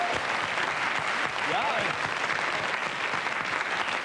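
Studio audience applauding on a French television variety show: dense, sustained clapping throughout, with a presenter's voice talking over it.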